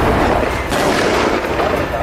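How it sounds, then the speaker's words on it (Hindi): Gunfire and explosions ring out during an Israeli military raid in Khan Younis, Gaza: loud, dense bursts of shots and booms packed tightly together with no clear gaps, and voices faintly mixed in. "इजराइल के सैनिक गोलियों और धमाके की आवाज के बीच दौड़कर मकान के अंदर गए"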